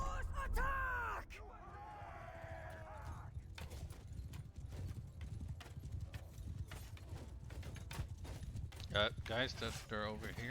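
Hooves of cavalry horses galloping in the Mount & Blade II: Bannerlord battle, steady clip-clop under a dense clatter of combat, with shouted voices at the start and end.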